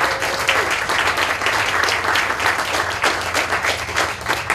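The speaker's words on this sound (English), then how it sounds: "Come on in, Jill. Let's hear it for Jill" A crowd at a state grant award event claps loudly and continuously for the city planner, a dense, even wash of applause filling the room with no voices rising above it.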